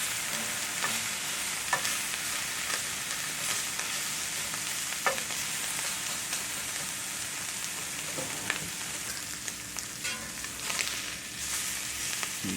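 Red-eye gravy with coffee cooks in a pan, giving a soft, continuous sizzle with occasional light scrapes of stirring, quiet and steady throughout.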